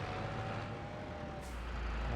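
Tractor engine in Farming Simulator 25, a low steady mechanical rumble with a faint whine above it, heard alone at a quiet level and rising slightly at the end.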